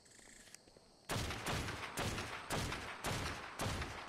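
Rapid gunfire from Ark Survival Evolved on Xbox One during a Broodmother fight: after a quiet second, six loud, evenly spaced bursts of shots follow one another, close and dominant.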